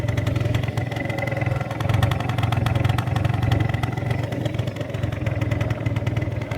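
A small Booster scooter engine with a 70cc Athena racing kit idles steadily and fairly close, a low even putter with faint clattering and no voices, holding constant throughout.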